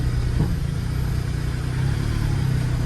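A non-running Smart Roadster that has just been put in gear, rolling off with a steady low engine and drivetrain rumble, close and even throughout, no voices.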